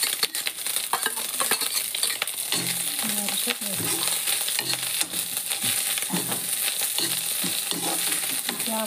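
Leftover cooked rice stir-fried with scrambled egg in a pan, a constant close sizzle with rhythmic spatula scrapes and clinks repeating every second or so.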